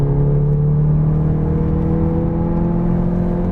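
A Stage 1 Volkswagen Golf R with a quad exhaust at high speed gives a loud, close, continuous droning engine roar and whir, heard alone without voices.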